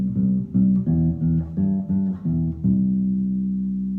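Bass guitar plays a simple line of straight, even quaver notes in a steady rhythm, each note clear and close, with the final note ringing and slowly fading.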